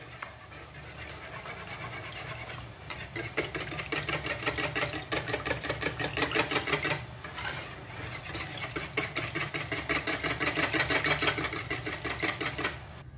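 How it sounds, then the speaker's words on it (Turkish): Eggs and oil are whisked in a bowl, producing rapid, rhythmic clattering strokes in bursts with short pauses, close and fairly loud. "Üzerine 2 yumurtayı kırıyorum arkadaşlar. Yarım çay bardağı kadar da sıvı yağını ilave ediyorum ve bunları güzelce çırpalım."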